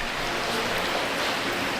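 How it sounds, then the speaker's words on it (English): Heavy rain pouring outside during a downpour, a dense continuous hiss of falling water with no breaks, loud and close, with no talking. "Because it is raining so hard."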